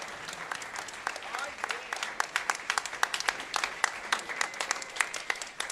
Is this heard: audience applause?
yes